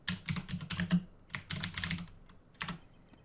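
Computer keyboard typing at a desk, rapid clustered keystrokes in bursts with brief pauses, close and crisp with no voices.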